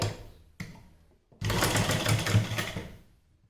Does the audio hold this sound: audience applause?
no